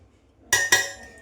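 Two quick metallic clinks of a spoon against a bowl while adding salt to mango pickle, close and crisp, the second tap following a beat after the first and ringing out briefly.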